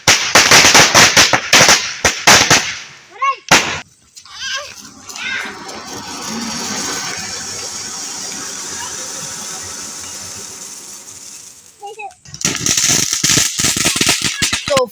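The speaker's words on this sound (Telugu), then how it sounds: "ఇలా సింపుల్గా ఒక క్రాకర్ అయితే కాల్చాను." Diwali firecrackers go off at a family celebration at home: sharp loud bangs and crackling bursts at the start and end, with a long fizzing, hissing stretch between, and children's voices nearby.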